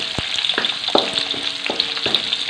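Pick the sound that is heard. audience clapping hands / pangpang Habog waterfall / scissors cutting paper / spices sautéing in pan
spices sautéing in pan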